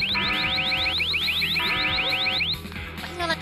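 Car alarm in The Sims 4 wailing in fast repeating rising sweeps over busy game sounds and music, loud and steady, cutting off near the end.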